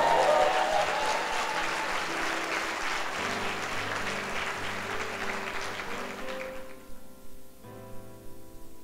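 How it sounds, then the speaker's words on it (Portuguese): A church congregation at a Sunday service bursts into sustained applause that gradually fades, with a few voices calling out near the end. "dá um aplauso a Jesus."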